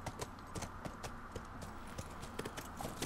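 Horse hooves clip-clop at a steady walking rhythm in The Last of Us, the hoofbeats close and clear over a soft outdoor background.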